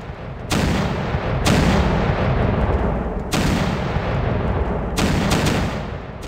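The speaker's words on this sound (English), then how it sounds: "a signal was given to the fort of Pratapgarh from Shivaji to resume a tremendous barrage of cannon fire on the Bijapuri army" Booming cannon fire barrage from a seventeenth-century Maratha fort bombarding the Bijapuri army, loud repeated heavy blasts in several bursts with rumbling decay between them.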